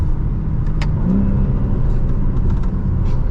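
A BMW M3 Competition xDrive being driven gives a low, loud engine rumble with road and cabin noise, steady over a few seconds with a brief rise in pitch, heard from inside the car with no talk.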